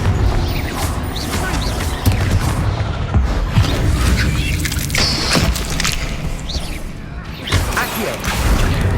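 Confringo fire-blast spells go off in Hogwarts Legacy combat, a string of loud booms and crashing impacts with whooshing bursts, dense and continuous over several seconds.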